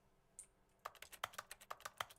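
Rapid keyboard typing clicks in a video game, a quick run of about ten crisp keystrokes following a brief faint tone, close and clear with no talk over them.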